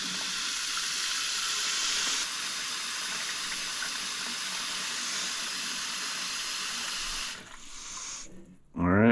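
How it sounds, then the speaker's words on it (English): Cold water pours into a brine holding fresh trout that is being prepared for smoking. A loud, steady rushing stream runs for several seconds, then thins out and stops, followed by a brief thump. "we're going to just top it off with"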